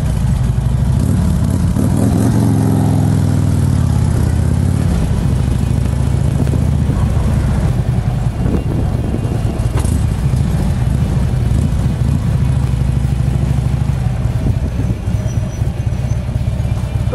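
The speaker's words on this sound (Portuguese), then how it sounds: "Dá uma olhada aí, escuta aí, meu filho. Escapamento Vansenheim, coisa linda, ó." Royal Enfield Himalayan 450 motorcycle fitted with a Vansenheim exhaust, its engine running loud and close for the full stretch with a low steady rumble and a few rev swells early on.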